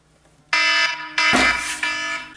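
A fire-style alarm sounds loud and close, a shrill electronic tone starting suddenly, pausing briefly, then blaring again in repeated bursts with no talking.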